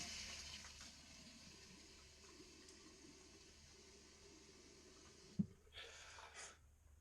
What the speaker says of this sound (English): Let me get my face wet again.